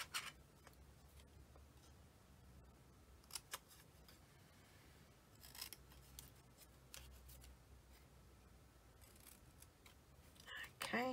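Scissors trim paper for a scrapbook layout, giving faint, scattered snips and rustles spread over several seconds in a quiet room, with a brief burst of quicker cuts near the end.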